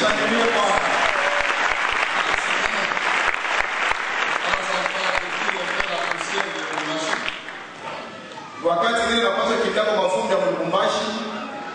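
A church congregation claps and cheers in sustained, dense applause filling the room at the close of a seminar, with voices shouting through it and a brief dip before the clapping swells again.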